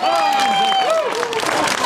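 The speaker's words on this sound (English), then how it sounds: "So a generous round of applause from both sets of supporters" Supporters of both Tipperary Blue and Kilkenny applaud at the Division 1 Celtic Challenge hurling final, a loud crowd roar with clapping and cheers as a commentator talks over it.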